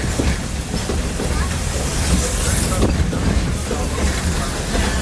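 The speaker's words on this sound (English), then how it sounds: "This old steam train needs water to keep going, just like you and me." Walt Disney World Railroad steam train running, a steady rumbling clatter with wind noise, moderately loud and continuous.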